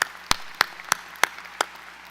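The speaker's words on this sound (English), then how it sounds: "So please give them a round of applause." A college commencement audience gives a handful of slow, evenly spaced claps, about one every third of a second, sharp and moderately faint with quiet room tone between them.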